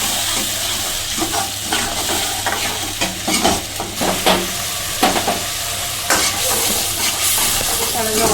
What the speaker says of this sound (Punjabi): ਹੁਣ ਅਸੀਂ ਇਹਨੂੰ ਭੁੰਨ ਲਾਂਗੇ